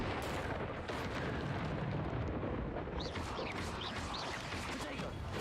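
The Incendio fire spell is cast in Hogwarts Legacy during a fight with spiders, a loud, continuous roaring burst of flame with a rumbling, explosive body that holds steady for several seconds.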